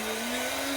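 A heat tool drying a crafted Christmas Noel sign, giving a steady, close whirring blow with a constant tone and no pauses.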